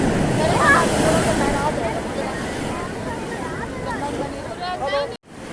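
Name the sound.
large sea waves crashing on Digha beach at night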